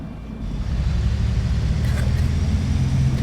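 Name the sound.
bus engine noise from a video game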